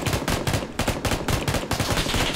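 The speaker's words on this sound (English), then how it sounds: "He's shooting at you?" Rapid automatic gunfire rattles in PlayerUnknown's Battlegrounds, a loud, close burst of evenly spaced shots firing in quick succession for a couple of seconds.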